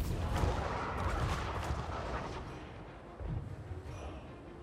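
Booming flame cannon blasts in a Total War: Warhammer III battle, several heavy bursts over a dense, rumbling background of combat noise.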